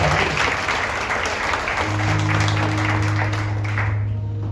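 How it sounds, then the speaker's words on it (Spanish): Loud, steady applause from a large crowd at a church worship service fills the whole stretch, with a low sustained tone rising underneath partway through. "Un fuerte aplauso al Señor."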